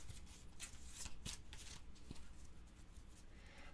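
Soft papery shuffling and riffling of board game cards being split into draw piles on a table, close and quiet, with a few light slaps of cards set down and no speech.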